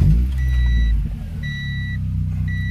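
A Honda H22A VTEC engine in a fourth-generation JDM car runs with a low, steady rumble close by. A high electronic beep sounds in repeating pulses over the engine, and no one talks.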